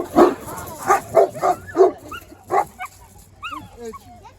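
A Boerboel puppy gives a run of five or six loud close barks, then thin rising whimpers and whines, with people talking nearby.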